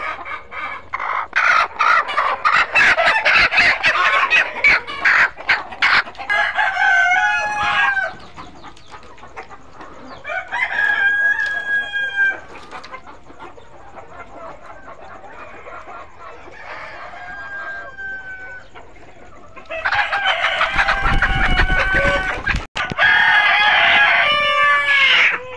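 Tiger breed laying hens on a poultry farm cluck and cackle in loud bursts, some close and some farther off, with rising squawks and crow-like calls between quieter gaps and a heavy thump near the end.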